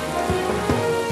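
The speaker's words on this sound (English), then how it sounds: "it looks like it's about to rain" Light cartoon rain begins to fall, with a soft, steady patter and a few distinct drop sounds over a sustained musical backdrop.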